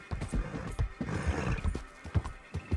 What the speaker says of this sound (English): I don't think I've ridden this horse before.